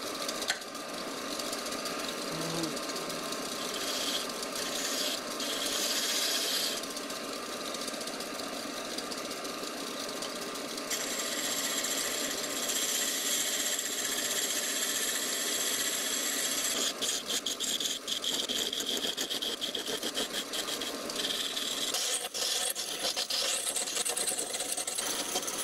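A wood lathe turns a carver's mallet on a fixed center, giving a continuous mechanical whir and hum with a rasping tool scrape that comes and goes. The sound runs steady and close throughout, with no talking.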